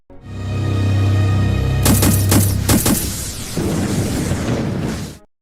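In an animated film, an explosion on a battlefield arrives as a loud rolling roar with a deep rumble underneath. Several sharp cracking bursts follow, then a crackling tail that cuts off abruptly after about five seconds.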